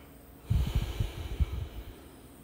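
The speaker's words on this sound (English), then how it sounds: "Breathe here." Heavy, audible breaths during a beginner yoga class, a short run of close, snorting inhales and exhales lasting under two seconds, alone without talk.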